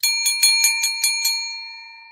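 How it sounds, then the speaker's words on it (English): A hand bell rings in a quick series of about seven bright metallic strikes, then its clear tone hangs and slowly decays, loud and close with no voices. "I'm going to ring this bell for you right now"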